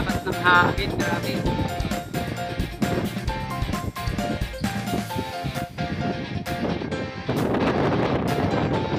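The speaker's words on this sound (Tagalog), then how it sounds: "Napakalakas ng hangin." Strong, gusty wind buffets the microphone with loud rumbling bursts throughout, while a voice speaks intermittently beneath it.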